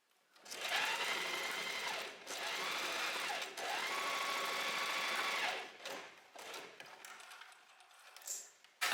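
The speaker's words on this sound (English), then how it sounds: "go back to your sewing machine and just close the little gap here" A sewing machine stitches shut a small gap in a blouse, running in three steady bursts of whirring with short pauses between them, then slowing to a few brief, fainter stitches at the end.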